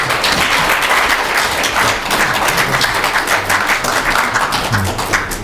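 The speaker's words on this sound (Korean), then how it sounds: "고진아 목사님께 다시 한번 박수" An audience claps continuously after a lecture by a pastor at a religion and humanities talk, the dense applause loud and even throughout.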